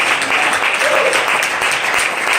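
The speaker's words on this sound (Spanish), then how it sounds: "Denle un aplauso al Señor, hermanos." Church congregation clapping in praise during a sermon, a loud, dense burst of applause filling the room evenly from start to finish, with no speech over it.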